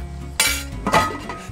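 A cast-iron skillet is set down on a grill, making a sudden metallic clank followed by a second, softer scraping rattle, all over within about a second.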